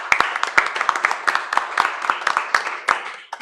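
At the close of a book presentation, a modest audience claps in a loose, uneven rhythm, distinct individual claps standing out near and fairly loud before trailing off.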